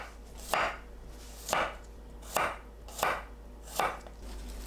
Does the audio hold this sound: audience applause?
no